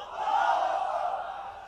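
A large outdoor religious gathering in Chattogram chants takbir in unison, one sustained, swelling roar of many voices calling out together from across the field.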